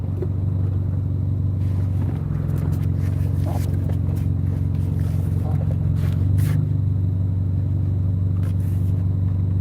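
A car on the move gives a steady, loud low rumble of engine and road noise from inside the cabin, unbroken for the whole stretch, with a few faint clicks and rattles on top.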